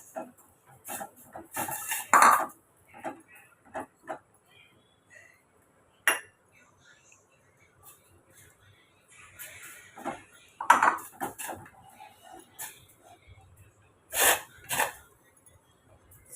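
Pearl millet porridge, kammang koozh, is stirred in a pot, with scattered scrapes and clinks of a spoon against the pot in short, uneven bursts and quiet gaps between them.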